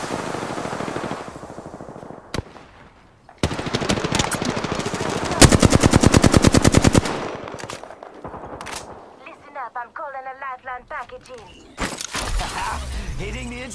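Automatic weapon fire in Apex Legends comes in several rapid bursts, one long loud rattling volley in the middle, mixed with sharp impacts and shield-break crashes; warbling game effects follow near the end.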